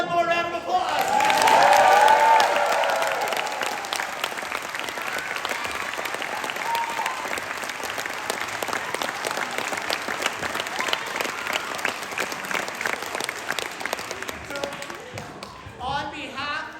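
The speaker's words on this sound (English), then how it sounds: "One more round of applause." An audience at a school production of Mary Poppins JR gives a long round of loud, dense applause, with a voice speaking over the opening and cheering mixed in as the clapping carries on and slowly thins.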